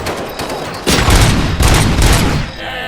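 Gunfire in the video game RoboCop: Rogue City, a loud, dense volley of rapid shots in bursts with heavy low-end booms, alone and close.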